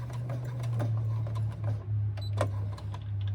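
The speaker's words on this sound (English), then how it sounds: "come to the machine and just do a top stitch all the way from one edge to the other to close up that pocket" Sewing machine running a top stitch across a fabric pocket pouch, with a steady low motor hum and a rapid ticking needle rhythm close by, pausing briefly midway.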